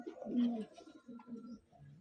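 A pigeon coos in soft, low, rounded phrases, repeated a few times at close range under light background noise.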